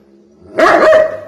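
A female Labrador puppy gives one short, sharp bark close to the microphone after a moment of quiet, with faint background hum around it.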